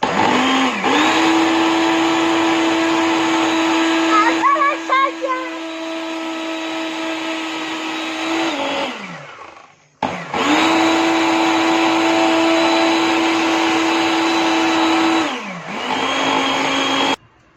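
A Kiwi brand food processor blending fruit with seeds, a loud steady motor whine that runs for several seconds, stops briefly, then starts again and runs on before cutting off.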